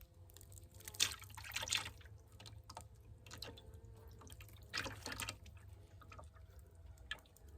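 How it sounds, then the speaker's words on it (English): Sugar syrup is poured into a frame feeder in a beehive, splashing and trickling in several short bursts over a low steady hum. "now I'm just going to pour my sugar water in here"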